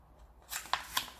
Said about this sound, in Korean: 여기는 이쪽 끝선을 윗선에 맞추어서 일단 반을 접어주세요.